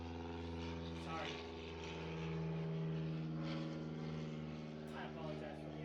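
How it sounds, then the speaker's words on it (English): A propeller airplane flies low overhead near an airport, a steady droning engine that swells and fades across the clip, mixed under someone talking. "I apologize for the airplane once again. Like I said, I'm pretty close to the airport. They kind of fly over here."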